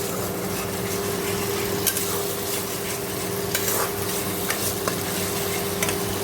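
Chicken with spice masala is stir-fried in a pan, giving a constant frying hiss with a low hum beneath and scattered clicks and scrapes from the spatula.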